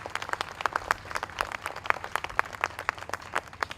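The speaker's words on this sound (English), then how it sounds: "So please give those kids a round of applause." A fair crowd claps in scattered, uneven bursts, individual hand claps distinct and moderately near rather than a dense roar, continuing briefly at modest volume.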